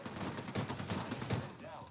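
Rapid gunfire from Apex Legends, a dense flurry of shots running nearly continuously through a busy in-game mix, with a voice talking over part of it.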